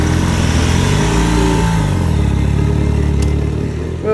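A KTM motorcycle rides off. Its loud engine revs up and climbs through the gears, then fades as the bike pulls away.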